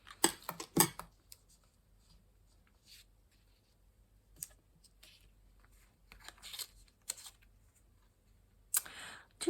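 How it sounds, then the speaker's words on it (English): Scissors snip paper while an ATC card is trimmed, giving a few short, faint, crisp cuts in scattered bursts with quiet gaps between them. "I'm going to snip"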